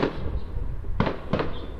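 Several firework bangs crack in quick succession in China, two standing out sharply over a steady background rumble, with no voices.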